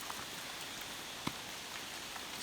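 Steady rain falls on a night in Taiwan, a soft, even hiss with a few faint drips and no voices.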